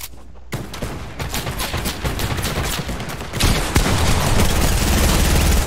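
A gold SMG in Fortnite fires rapid, dense bursts of gunfire, a loud continuous crackling spray that swells louder partway through and keeps going without pause.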